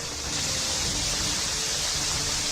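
In Shimla, relentless heavy rain floods the streets with running water, producing a continuous broad wash of hissing noise at an even loudness from start to finish, with nobody speaking.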